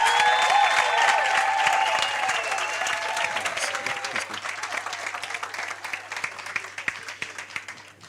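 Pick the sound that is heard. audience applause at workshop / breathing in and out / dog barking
audience applause at workshop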